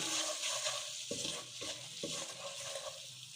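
Five small cardamom pods fry briefly in a hot pot of spices, a soft steady sizzle with three quick stirring scrapes heard up close and faint.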